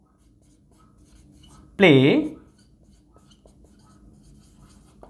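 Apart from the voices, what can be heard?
teacher writing an example sentence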